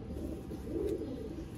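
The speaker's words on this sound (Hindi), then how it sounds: "ये गोल्डन कबूतर है" Soft, low cooing of golden pigeons murmurs steadily throughout, a close, continuous throaty burble with no voices.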